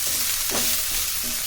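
Ginger, garlic and spring onions frying over high heat for vegetable fried rice make a steady, loud sizzle up close with a couple of quick stirring scrapes, heard with no voices.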